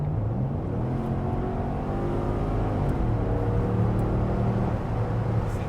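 A 1998 Mercedes C43 AMG accelerates from inside the cabin, a steady loud engine drone with rising and stepping tones as the revs climb through the gears.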